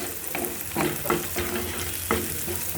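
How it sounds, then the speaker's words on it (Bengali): Onion frying in a pan, a steady sizzle broken by several scraping stirs at irregular intervals, close and fairly loud, with no talking. "এই যে দেখেন একটু ভেজে নিচ্ছি আজকে পেঁয়াজটা"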